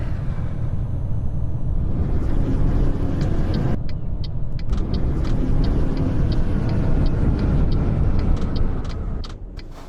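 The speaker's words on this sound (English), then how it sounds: "That noise is the retarder kicking in." A truck retarder in a truck driving game gives a steady, loud, low mechanical roar under the engine drone, with a pitch shift partway through and faint ticking, before the roar drops away at the end.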